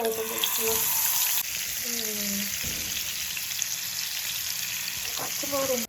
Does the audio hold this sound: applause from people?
no